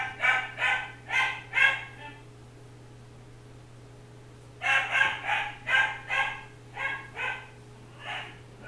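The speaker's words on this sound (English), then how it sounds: "Non-stop barking" A dog barks in two bursts of rapid, evenly spaced barks, close and loud, with a short quiet gap between them over a steady low hum.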